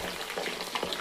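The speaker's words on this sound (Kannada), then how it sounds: "ರೋಸ್ಮೆರಿ ಮತ್ತು ಕರಿಬೇವಿನ ಸೊಪ್ಪು ಸ್ವಲ್ಪ ಚೆನ್ನಾಗಿ ಫ್ರೈ ಆಗಲಿ" Rosemary and curry leaves crackle as they fry in hot oil along with aloe vera, gooseberry, hibiscus and onion, a steady near sizzle with brief louder pops and no talking.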